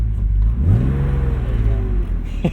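A turbocharged 1995 BMW 325i engine gets a quick rev, the deep idle rising in pitch and then sliding back down, loud and close inside the car, with a faint click at the end.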